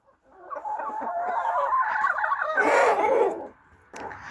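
Chickens in a farmyard cluck and chatter nearby in a busy overlapping flurry, with one louder squawking call before a brief lull.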